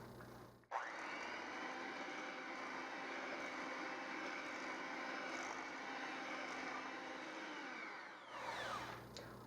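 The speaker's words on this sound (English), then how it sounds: "mix this on medium speed for about 2 minutes" An electric mixer at medium speed beats granulated sugar and room-temperature eggs in a bowl, a steady whirring motor hum that switches on abruptly and runs evenly for several seconds before stopping.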